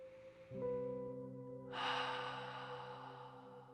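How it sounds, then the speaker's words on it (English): During a guided meditation, a long deep cleansing breath is drawn in with an audible airy rush and then let go in a slow, breathy exhale, heard close and quiet over sustained soft tonal music, with no speech. "let's take a nice, long, cleansing, deep breath"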